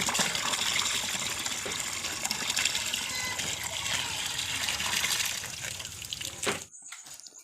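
Water pours out steadily for a bath as a continuous close splashing gush, loud and unbroken for several seconds before it stops abruptly, leaving near silence.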